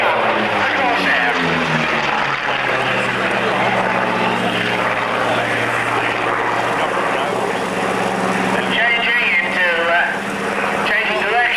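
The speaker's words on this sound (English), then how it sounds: "but head on now, going up, the Corsair" A Corsair propeller fighter performs aerobatics at the Weston Park air pageant, its engine droning loudly with a shifting, Doppler-swept pitch as it climbs and changes direction overhead, and a commentator talks over it.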